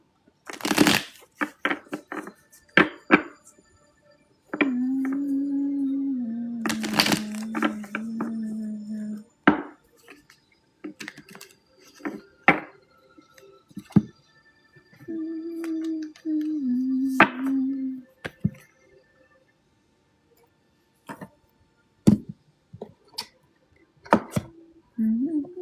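Reading cards shuffled by hand for a collective reading: repeated crisp riffles and slaps in irregular bursts, with soft flutters and pauses between, close and fairly loud with no talking.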